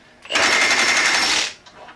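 A Milwaukee Fuel 1/2 inch heavy duty impact wrench fires in one loud, close burst of rapid hammering lasting just over a second, then stops abruptly.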